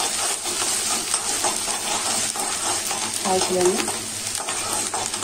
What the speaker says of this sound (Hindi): 2 मिनट के लिए प्याज को फ्राई कर लिए हैं।